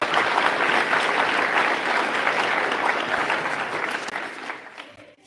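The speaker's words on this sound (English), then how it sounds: "give our JV golfers a round of applause" At a high school spring sports awards ceremony, an audience claps loudly and steadily for the JV golf team, the applause tapering off toward the close.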